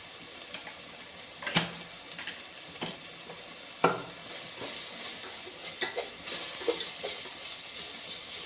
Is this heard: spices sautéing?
yes